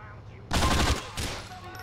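Rapid burst of gunfire from a newly picked-up weapon in GTA IV: The Ballad of Gay Tony, a short volley of several quick shots followed by a fainter second burst.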